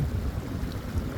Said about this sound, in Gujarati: આ પવન છે કે છે મિત્રો.